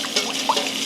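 About a cup of liquid poured into a skillet used for seasoning oxtail, a close, brief, splashing trickle with a couple of gurgles and no talk.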